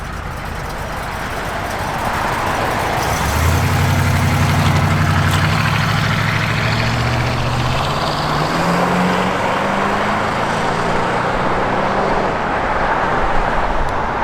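A 1971 Oldsmobile Cutlass SX engine idles with a deep, steady rumble, rising slightly and shifting in pitch partway through, loud and close, with no voices.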